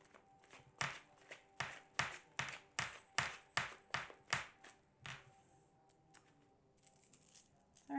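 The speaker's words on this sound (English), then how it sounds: "My bangles are making noises." Bangles on a wrist jingle in a quick run of about a dozen bright metallic clinks, evenly spaced and close, then fade to quieter faint jangles at the end.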